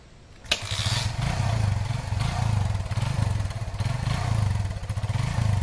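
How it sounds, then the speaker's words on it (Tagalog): A motorcycle engine catches with a sharp crack after a brief quiet moment, then settles into a loud, pulsing, rhythmic idle that continues steadily and close by. "Didiling ko yung motor."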